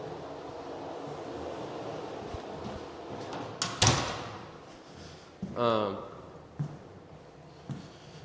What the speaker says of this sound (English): I'm gonna close this door real quick.